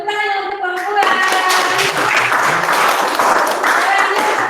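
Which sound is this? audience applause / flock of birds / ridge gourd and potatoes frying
audience applause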